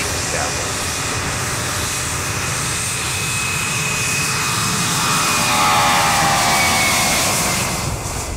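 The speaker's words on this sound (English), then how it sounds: "It's the only twin-engine turbojet aircraft that services the Arctic." A loud jet aircraft engine roars steadily with a high whine on top, swelling slightly toward the end.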